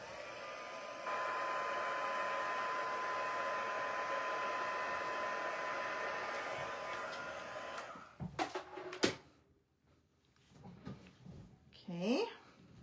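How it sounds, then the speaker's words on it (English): A heat tool blows steadily on ink splatter on paper, a constant close whirring hum for about eight seconds before it clicks off, followed by handling noises and a voice. "We'll just grab the heat tool here and dry it up."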